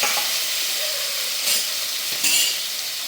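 Finely chopped tomato and green chillies frying in a pan, a steady bright sizzle with a couple of brief louder hissing bursts, close and alone.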